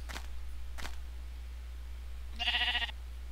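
Brief sheep bleat from a video game, a single short nasal call near the end, preceded by a couple of faint clicks over a low steady hum, with no talk.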